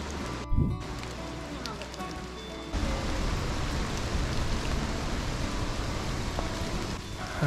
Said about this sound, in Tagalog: Kasi malakas yung hangin, malakas pa yung ulan.